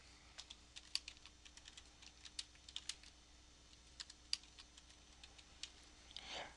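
Light clicks of typing on a computer keyboard while entering HTML list code, irregular taps and short bursts, fairly close and quiet, with no talking.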